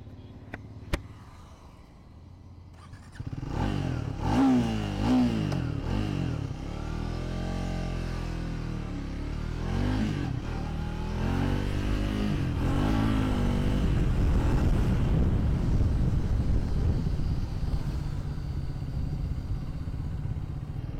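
A 2025 Triumph Speed 400 motorcycle engine starts up and revs, rising and falling in pitch as it rides along, loud and close for a long stretch.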